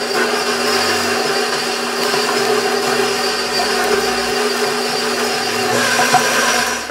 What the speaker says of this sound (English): We're going to cream that all together